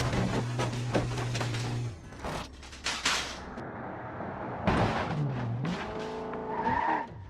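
A 2022 Land Rover Defender in the BeamNG.drive driving game runs through a course of gates, its engine revving alongside repeated crashing impacts and tire squeals, loud and close with no talk.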